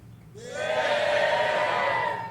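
A studio audience of a comedy panel game show bursts into a loud, sustained cheer that swells quickly and holds for about two seconds before easing off.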